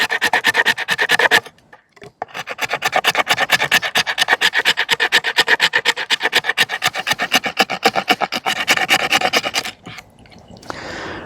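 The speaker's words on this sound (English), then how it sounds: "We'll try to spine this thing first with some scraping to see how well it scrapes some fatwood." The spine of an Allegheny Knifeworks M25 knife scrapes fatwood in fast, rhythmic strokes, a loud close rasping series that stops briefly, then resumes in a long steady run before fading, with no voices.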